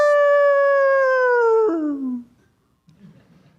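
A human voice imitates a hound dog howling with one long, loud, sustained tonal howl that slides slightly downward, then breaks and drops off into quiet with a faint trailing sound.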